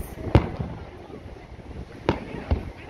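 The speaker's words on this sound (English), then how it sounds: "They had two fireworks. The first one 20 minutes. And this one is just start." Fireworks over Redondo Beach, California on the 4th of July: a few distant booms, one near the start and two more about two seconds later, over a steady breezy outdoor wash.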